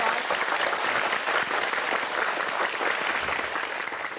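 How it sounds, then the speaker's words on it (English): An audience gives a sustained, dense round of applause after a televised talk show interview, loud and steady throughout. "Please Thank give you. him a round of applause."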